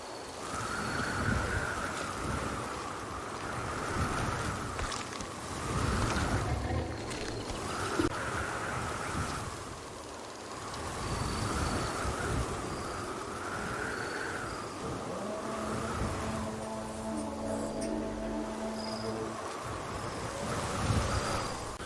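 A desert sandstorm roars with strong wind in steady, surging gusts. A broad rushing hiss fills the whole stretch, and a low sustained tone joins in later.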